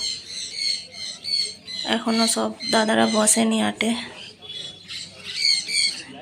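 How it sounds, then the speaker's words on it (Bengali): Assorted birds, pigeons and chickens at a bird market squawk and chatter in bursts, with a voice speaking over the busy, close calls. "কত রকমের পাখি পায়রা মুরগি আজকে মুরগিও এসছে অনেক রকমের"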